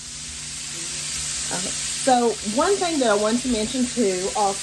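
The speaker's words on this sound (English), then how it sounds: "We're ready to heat up our oil and to start frying the chicken." Chicken frying in hot peanut oil sizzles and crackles steadily in the background while a person talks over it.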